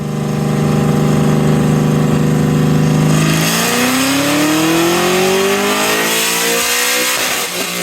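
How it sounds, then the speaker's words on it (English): Race car engine on a dyno, held at a steady high drone before sweeping up through the revs in one long, loud pull toward about 7,600 RPM, then easing off. "Put it on the dyno, one last dyno session before we leave for race week"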